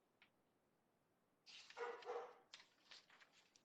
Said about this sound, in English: Apologies for the dog background.